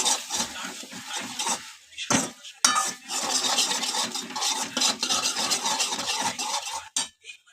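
A spoon scrapes and clinks around a pan while white sauce for pasta is stirred, giving repeated rubbing strokes and small metallic taps, close and fairly clear, with brief pauses between the strokes.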